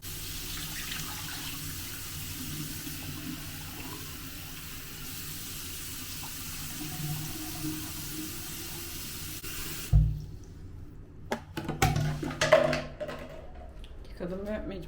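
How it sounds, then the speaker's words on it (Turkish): Tap water runs into a cooking pot in a hotel room, a steady close stream of filling water that gives way to clinks and handling knocks of the pot, with a person talking over it. "çeşmeden doldurdum yani."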